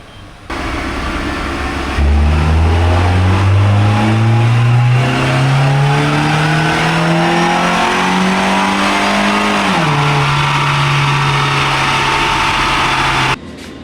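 A Peugeot 206 CC engine idles, then revs steadily upward on a dyno, holding a loud, rising drone for several seconds before the pitch drops and settles, then cuts off.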